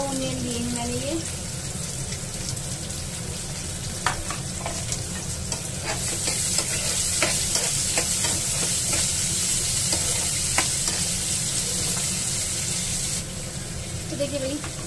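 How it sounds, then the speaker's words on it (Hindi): Two onions frying and being stirred in a pan for chutney: a steady, close sizzle that runs the whole time, with brief scraping strokes of the spoon. A voice is briefly heard at the start and near the end. "और इसी के साथ मैं डाल दूंगी ओनियन, ये मैंने लिए हैं 2 ओनियन लिए हैं मैंने ये।"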